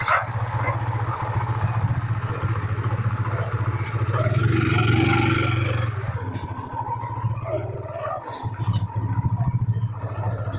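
A motorcycle is moved into a small Coca-Cola products wholesale shop. A steady low engine rumble runs throughout, with clatter and brief sharp noises on top.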